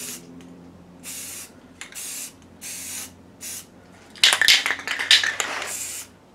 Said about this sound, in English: it's a great primer out of a rattle can